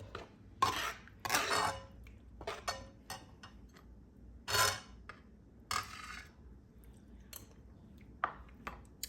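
Spoon stirring green curry in a pot during Thai home cooking, with a series of sharp metallic clinks and scrapes spread irregularly over several seconds against quiet room background.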